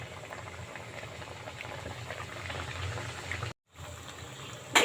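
Khaja dough sizzles in hot oil, a dense, steady crackling hiss that continues with a brief cutout near the end.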